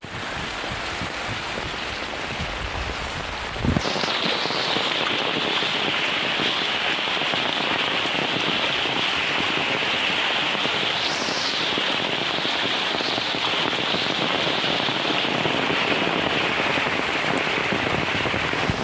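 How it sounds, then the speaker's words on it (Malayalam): Heavy rain pours steadily over a paddy field, a dense, loud hiss that fills the whole stretch after a sharp jump in intensity early on, with no voices. "ഭയങ്കര മഴയാണ്, നമ്മൾ ഉദ്ദേശിച്ചേക്കാളും മഴയുണ്ട് ഗൈസ്"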